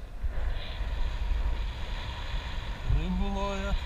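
Wind and waves wash over the microphone as a motorboat engine hums at sea, with a rising engine tone near the end.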